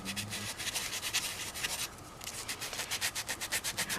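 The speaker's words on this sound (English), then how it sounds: "You just sand it out." Spackling on a doll body is sanded by hand in close, scratchy back-and-forth strokes. The rhythmic rubbing quickens toward the end, with a brief lull midway.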